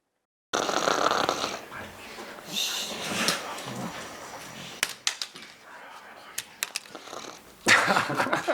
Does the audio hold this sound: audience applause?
no